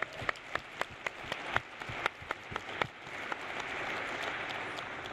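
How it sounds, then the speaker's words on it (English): An audience gives a round of applause to an honoree recognised for leading the fight against climate change; a few sharp individual claps open it, then they merge into a fuller, sustained wash of clapping. "So that deserves a round of applause right there"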